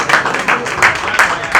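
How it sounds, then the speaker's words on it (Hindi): An audience claps at a live stage event in Rohini Sector-7, a short run of quick, rhythmic bursts of applause, close and fairly loud. "जोरदार ताली इनके लिए।"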